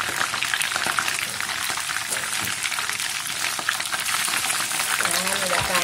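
Chicken pieces frying in fish-sauce style in a hot pan as they are turned, a loud, steady, dense sizzle close up, with faint clinks of handling near the end.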